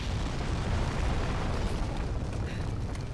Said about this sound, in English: the dragon's fire will kill you